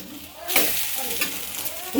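Chickpea flour pudla batter sizzles softly in a pan over low heat, a faint steady frying hiss with a brief scrape or stir near the start.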